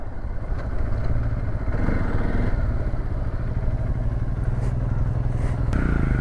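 A Hero XPulse 200 motorcycle rides offroad on a mountain trail, its engine droning steadily and loudly up close throughout, with rattling and clatter over the rough ground and a brief shift in pitch near the end.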